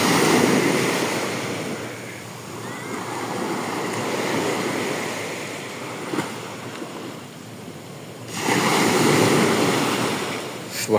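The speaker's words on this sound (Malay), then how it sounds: "Tenangan deruan ombak." Ocean surf rolling onto the beach at Port Dickson, a steady broadband wash of waves swelling and receding, with a louder breaking surge near the end; no voices.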